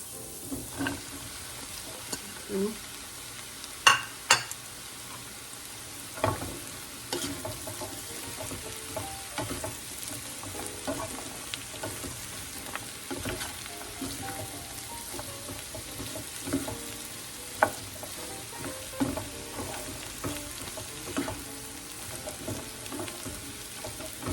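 Bottle gourd sautéing in a pan, a steady low sizzle of frying with intermittent sharp clicks and scrapes from stirring, close and moderately quiet throughout.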